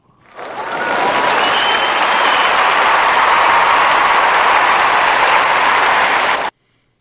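Audience applause at a live show swells quickly and holds as a loud, dense, even wash of clapping for several seconds before cutting off abruptly.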